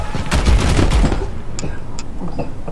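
Gunfire in a video game, with a loud, dense volley of rapid shots and booms at first, then sparser single cracks as it fades.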